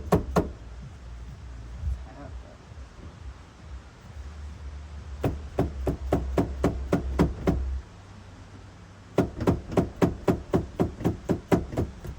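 A hammer knocks on the door of a Nissan 280ZX Turbo barn find in a driveway: sharp repeated blows in quick clusters, near and loud, with a low rumble in between and no talk.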